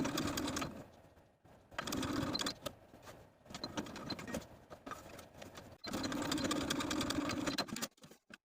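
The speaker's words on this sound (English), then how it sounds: "start a fresh set of stitches at the bottom of that V, snipping, backstitching to secure" A sewing machine stitches the neckline of a V-neck T-shirt made from hand-painted fabric, running in several close bursts of rapid mechanical whirring separated by short pauses.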